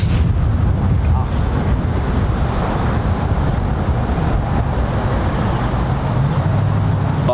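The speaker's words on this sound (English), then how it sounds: "left to right wind" Strong wind blowing across an open golf course, loud continuous rumbling buffeting against the microphone for the whole stretch with no break, no talking.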